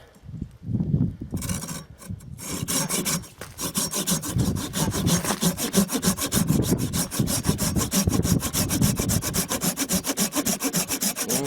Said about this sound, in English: Going quicker. More sawdust coming out.